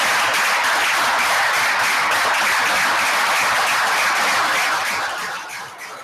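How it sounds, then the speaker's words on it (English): An audience at a school board meeting applauds award recipients, a dense, loud wall of clapping that holds steady for several seconds and then tapers off at the end. "If we could please give them a very well-deserved round of applause"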